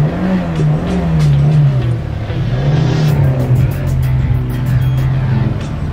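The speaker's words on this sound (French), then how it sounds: "Messieurs, démarrez vos moteurs." Peugeot 206 car engines start and rev together, a steady loud droning roar with a low pitch that rises and dips slightly, continuous for several seconds with faint higher clicks later on.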